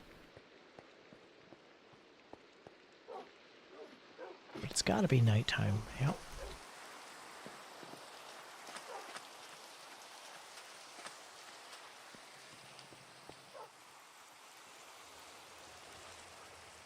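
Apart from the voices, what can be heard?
rain falling in Minecraft video game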